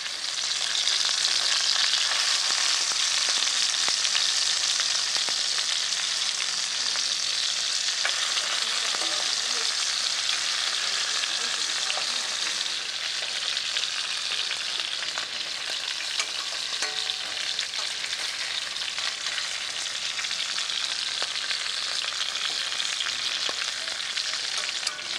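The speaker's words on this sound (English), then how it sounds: "The shanks are turned until thoroughly browned on all surfaces, including the edge." Lamb shanks browning in a hot pan give off a dense, steady sizzle and crackle that hardly varies for the whole stretch, close up and with no voices.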